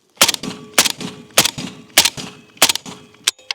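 AK-74 rifle shots striking a wooden log, fired in rapid succession: about seven sharp, loud cracks with splintering impacts, close and spaced roughly half a second apart, with no talking.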